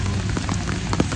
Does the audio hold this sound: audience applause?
no